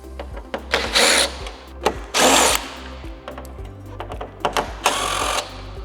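A power driver whirs in several short bursts while removing T25 screws from the windshield area of a 2024-2026 Harley-Davidson Street Glide Ultra, with clicks and clatter of handling between runs.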